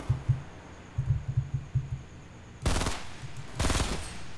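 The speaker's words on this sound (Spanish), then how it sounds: "le metí un headshot" Rapid gunfire bursts in the Fortnite video game, a string of low thumping shots followed by two louder, sustained volleys near the end, heard alone with no talk.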